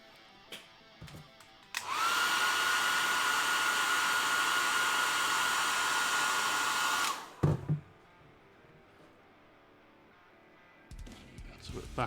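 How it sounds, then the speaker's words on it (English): A hair dryer is switched on and runs at a steady loud whoosh for about five seconds before cutting off, with quiet clicks and handling sounds before and after. "we'll grab the hairdryer."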